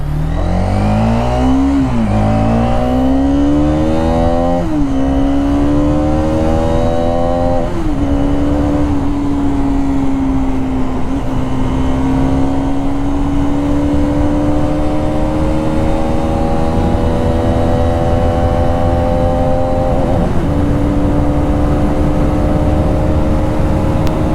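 A Hero Karizma XMR motorcycle accelerating on an open road, its engine climbing steadily through the revs with brief dips at each gear change, loud and close, no talking.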